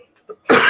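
One sharp, loud cough bursts out close to the microphone after a moment of near silence and a faint breath.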